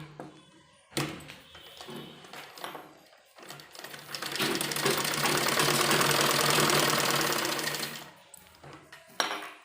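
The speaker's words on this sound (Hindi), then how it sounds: "तो देखिए सबसे पहले एक साइड का हम 13 की सिलाई करेंगे" A sewing machine stitches the seam of a baby umbrella frock, starting with short bursts, then running fast and steady in a loud mechanical whir for several seconds before stopping, close by.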